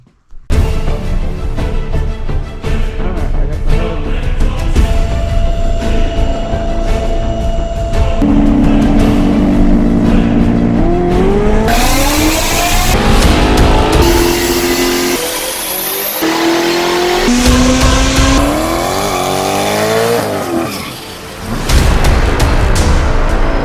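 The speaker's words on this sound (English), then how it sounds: "today we're tuning this orange 2007 3-valve Mustang" An orange 2007 Mustang GT with a 3-valve 4.6 V8, cams, an intake manifold and a stick shift, loud and close on a dyno, roaring through repeated rising revs and gear pulls that run almost without a break.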